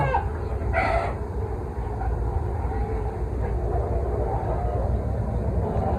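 Chickens clucking inside a chicken coop during cleaning, close and brief calls over a constant low rumbling background, with faint sounds of people nearby.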